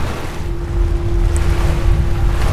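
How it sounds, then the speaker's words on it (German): Rushing water and low watery rumble in Tomb Raider Underworld as the ocean drains away after chains are pulled, a steady broad wash with a faint sustained tone running through it. "Wenn ich die Ketten ziehe, geht das ganze Wasser hier aus dem Ozean raus."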